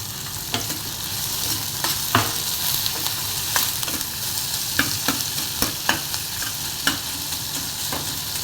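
Chopped onions with salt and curry leaves sizzle steadily in a hot pan while a spoon scrapes and stirs them, giving sharp intermittent clacks over the soft frying hiss.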